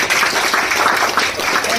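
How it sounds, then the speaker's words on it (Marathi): Loud dense applause from an audience at a zonal officers' meeting where a health product is being launched, a steady crowd clapping wash lasting under two seconds. "एकदा जोरदार टाळ्या."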